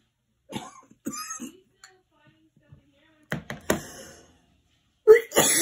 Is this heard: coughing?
yes